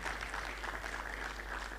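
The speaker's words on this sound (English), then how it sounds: "Give them a round of applause." A steady round of applause, many hands clapping together in a dense, even patter that holds at the same level throughout.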